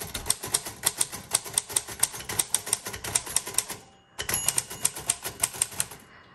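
Rapid, even keystrokes rattle from a 1936 Royal Model O manual typewriter, close and loud, broken by one short pause before the clacking resumes at the same brisk pace; nobody speaks.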